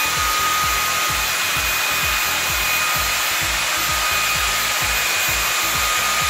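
An LG A9S cordless vacuum cleaner runs over scattered coffee grounds. Its loud, steady motor whine is layered over a fast, regular low thumping from the rotating brush head.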